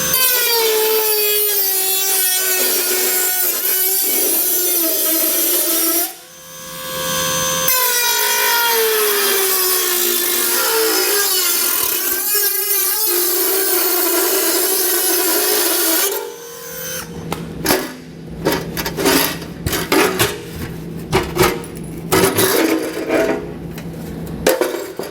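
A square being cut out of the heat shield of a 2021 Ford Explorer during a Curt trailer hitch receiver install: a loud, continuous rasping saw-like cutting with a brief pause, then choppier strokes toward the end, no talk.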